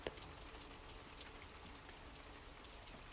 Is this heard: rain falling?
yes